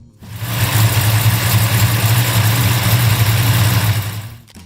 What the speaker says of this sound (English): an engine that produces a thunderous roar, tears through tracks